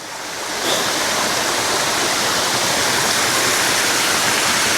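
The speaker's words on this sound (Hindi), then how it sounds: "कुछ पानी थोड़ा सा इधर से भी आ रहा है, अंदर से" Water rushes steadily at Silver Sands Beach in Aberdour, Scotland, a loud, continuous broadband wash that swells up after a brief quieter start.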